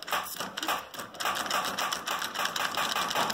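A worn starter motor on a Raider plow rig cranks in a rapid, rattling, uneven churn, loud and close, with brief dips in the rhythm.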